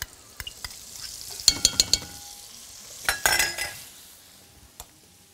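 Garlic and spinach cooking in butter in a pan, with soft stirring and intermittent light clinks of a utensil against the pan over a quiet sizzle, heard close with no talking.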